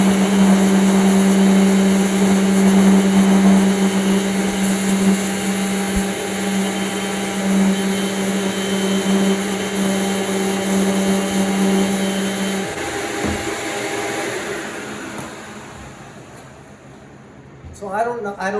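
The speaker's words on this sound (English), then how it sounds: "So here we're going to sand this down real quick." A vacuum-extracted power sander works over a limewashed wood piece, giving a steady high-pitched whine with a droning hum that holds for most of the stretch, then slows and fades near the end.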